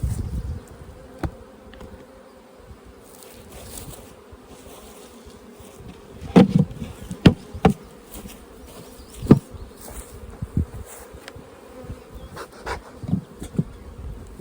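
Honey bees buzzing around hives in a bee yard, a steady dense drone close to the mic with occasional louder individual bees darting past and faint handling knocks.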